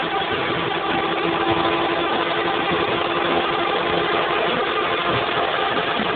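A Perendev magnet motor runs at high speed, a dense, steady whir with a faint constant tone inside it. The sound holds loud and even throughout, with no talk.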